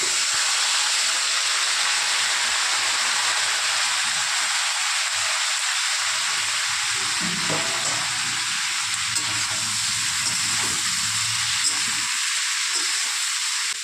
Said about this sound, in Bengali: এখানে আমি সব সবজিগুলোকেও একসাথে ঢেলে দেবো কড়াইতে